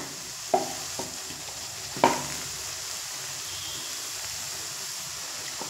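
Crushed peanuts get stirred into sago pilaf in a pan: two distinct scraping clacks of the spoon over a faint, steady sizzling hiss, quiet and close, without speech.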